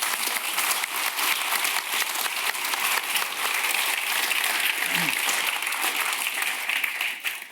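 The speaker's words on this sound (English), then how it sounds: "I think that deserves a massive round of applause." Sustained round of applause from a large audience at an NHS Clinical Entrepreneur Programme pitch event, dense steady clapping at full volume throughout, with no voices over it.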